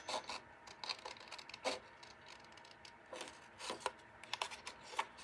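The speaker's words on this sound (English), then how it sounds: "Let's cut this out real quick." Scissors snip through paper while basic envelopes are being made, giving a string of quiet, close crisp cuts and rasping rubs in an uneven rhythm with short pauses between.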